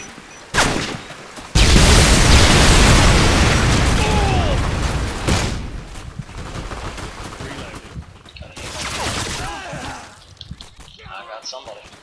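A frag grenade detonates in the Modern Warfare 2 video game: a heavy, rumbling blast that swells and lingers, mixed with rattling gunfire bursts and shouted voices from the battle.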